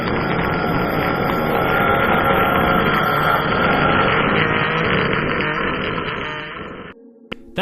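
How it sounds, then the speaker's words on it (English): Enderman staring sound effect from the Minecraft video game: a loud, dense, distorted droning roar that holds steady for about seven seconds, then cuts off abruptly into near silence with a couple of faint clicks. "That's the sound of an Enderman staring at you,"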